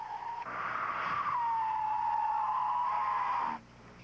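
A car brakes hard during a tire braking test on a road, the tires giving one sustained squealing tone that slowly drops in pitch for about three seconds before cutting off, heard at moderate distance.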